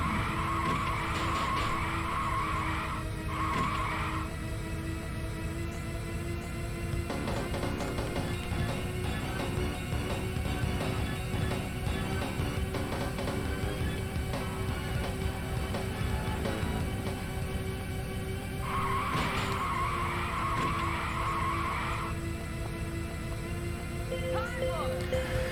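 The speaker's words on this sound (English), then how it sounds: "these open wheel race cars drifting round corners" Open wheel race cars skid and drift through corners in a PS2 racing video game, with continuous tire squeal and engine roar over steady game music and a voice talking over it.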